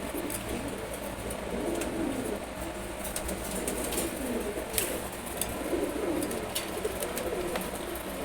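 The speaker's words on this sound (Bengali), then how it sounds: "এই বাচ্চা দুটো হচ্ছে সিলভার গোর্রা কবুতরের।" Two silver gorra baby pigeons about two months old coo softly and repeatedly at close range, low throaty calls over a faint background, with a few sharp clicks and brief wing rustles.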